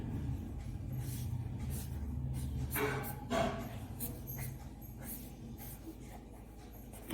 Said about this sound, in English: first I will draw the person